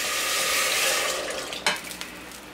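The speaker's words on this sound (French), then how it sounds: "j'ai mis à chauffer ma petite casserole pour la sauce" Sauce heats in a small saucepan, a broad steady sizzle and hiss with a brief clink of a utensil against the pan near the end.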